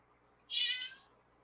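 A house cat gives a single short, fairly quiet meow, rising and fading within about half a second against a near-silent room.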